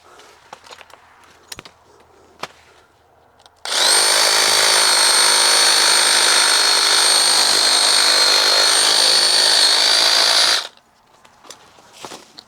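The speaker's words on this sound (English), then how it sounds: "cut this off way back here with the Sawzall" A Sawzall reciprocating saw cuts through a fig tree branch in one loud, continuous burst of roughly seven seconds, close by, with quiet handling noises and small knocks before and after.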